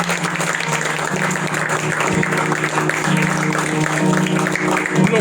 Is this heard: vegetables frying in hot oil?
no